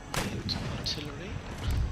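Artillery cannons firing during a battle in the strategy game Empire: Total War, several short booming reports in quick succession over a low battlefield rumble.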